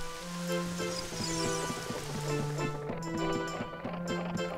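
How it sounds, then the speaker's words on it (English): Steady rain falls inside the windmill in The Legend of Zelda: Ocarina of Time, a dense hiss of drops with a repeating low mechanical churn beneath, constant and fairly close throughout. "it's raining inside."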